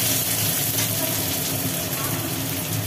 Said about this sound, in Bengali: তেলের মধ্যে পড়ে গেল পেঁয়াজ